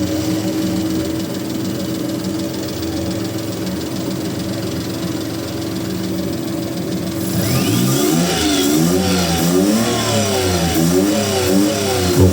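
An engine starts after a condenser repair, first a quiet idle hum, then a sudden louder catch with repeated rising and falling revs close by.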